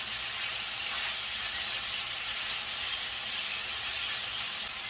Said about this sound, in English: you remember when they bring them to the table, they're real sizzling.